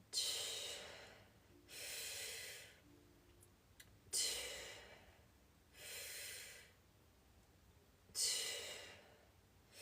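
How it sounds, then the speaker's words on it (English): Slow, audible exhales during a late-night stretching routine, five broad breathy whooshes spaced about two seconds apart, close to the mic and alone with no talk. "Exhale."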